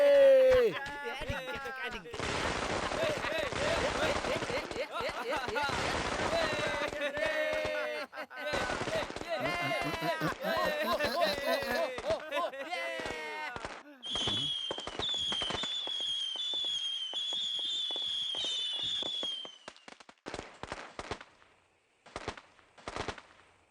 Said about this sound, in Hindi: जिस तरह पटाखे फूट के इधर उधर बिखर रहे हैं